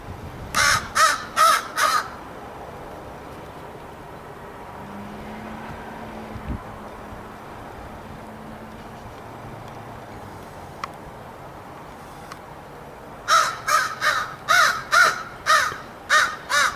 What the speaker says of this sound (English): What a crazy bird.